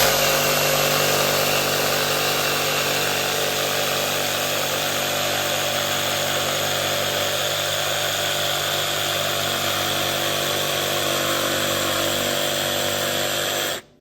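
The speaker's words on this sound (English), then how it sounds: "You don't need to watch a jigsaw going by." A power jigsaw cuts a notch in a piece of theatre scenery, a loud continuous buzzing whine held steady for about fourteen seconds before stopping abruptly, with no talk over it.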